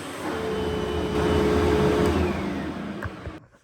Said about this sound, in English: can hear it sounding like your average vacuum motor